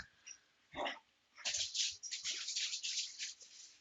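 Dogs play fight nearby: a short scuffle, then a run of rough, huffing growls and scrabbling bursts, fairly faint and with no talking over them.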